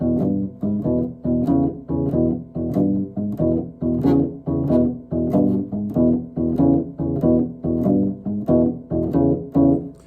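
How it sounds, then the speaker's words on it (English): Electric blues guitar plays a Chicago-style shuffle boogie pattern over the 1 chord, adding second- and third-finger movement; evenly repeating plucked riffs in a swinging rhythm, clear and close with no talk. "just adding with our 2nd and 3rd fingers a little boogie pattern to"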